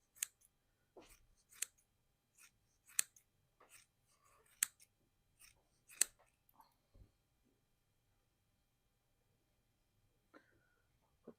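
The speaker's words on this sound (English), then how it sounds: "So I'm just going to hand cut a bit of this." Scissors hand-cutting an old wool sweater, a series of sharp, close snips in uneven bursts for about six seconds, followed by near silence with one faint click near the end.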